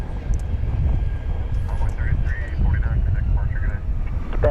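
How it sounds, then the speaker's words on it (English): A departing airliner at DFW Airport at night, bound for Corpus Christi, gives off a steady, heavy low-pitched engine roar that holds throughout, with wind-like rushing layered on top. "And here goes the flight to Corpus Christi."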